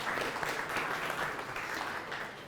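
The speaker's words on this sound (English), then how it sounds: "let's welcome Mr. Khurram with a big round of applause" Dense, steady applause from a panel discussion audience on workplace culture, sustained and fairly even for a few seconds with no voices over it.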